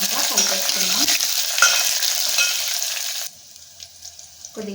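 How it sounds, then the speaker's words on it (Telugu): Curry leaves and green chillies stirred in hot sizzling oil, a loud steady fry with scraping spoon strokes that drops sharply to a quieter crackle near the end. "కరివేపాకు వేసుకున్నాక కలిపేసుకున్నాం"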